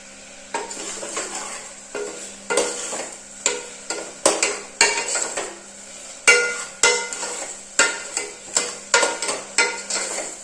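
Ginger, garlic, curry leaves and a little turmeric are sautéed in a pan for chicken curry, with a spoon scraping and clinking against the metal in a regular rhythm over a soft sizzle, close and fairly loud, with no talking.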